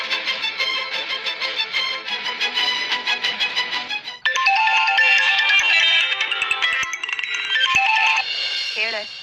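A loud electronic mobile ringtone plays a repeating melody, switching to a brighter tune partway through, with no other sounds around it.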